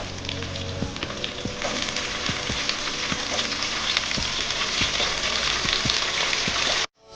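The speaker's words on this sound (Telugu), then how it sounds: "శుభ్రంగా కడిగి పెట్టుకున్న చికెన్ వేసుకుందాం" Washed chicken drops into a pan of browned onions, setting off a loud, dense, continuous sizzle with scattered crackles and pops, close by, ending abruptly.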